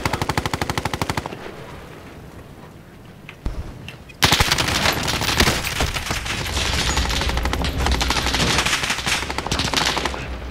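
Video game gunfire: rapid machine-gun bursts crackle at the start, a lull follows with a single sharp shot, then a long, loud stretch of sustained automatic fire and overlapping shots.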